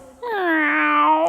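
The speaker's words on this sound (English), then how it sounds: "No, Bartolito, that's a cat." A single drawn-out cat meow, loud and close, rising then holding a clear tonal cry for about a second in a quiet setting.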